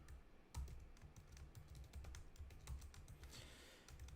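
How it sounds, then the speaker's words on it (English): Typing on a computer keyboard while writing code, a quick irregular patter of soft key clicks with a few heavier strikes, close and quiet. "Let me finish typing this bit."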